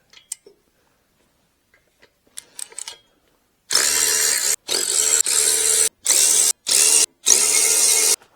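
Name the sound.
power tool zipping off nuts on an Allis Chalmers WD45 tractor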